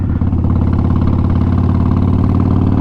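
A 2012 Harley-Davidson Sportster 72 engine rumbles loud and close while riding, a deep, steady, throbbing drone that holds an even pace throughout.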